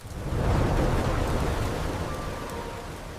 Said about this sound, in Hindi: एक दिन जंगल में भयंकर बारिश शुरू हो गई।